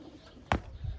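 An old tumbler pigeon with a respiratory infection gives a single short coo, a brief sharp call followed by a low throaty tail, heard close and alone over faint background noise.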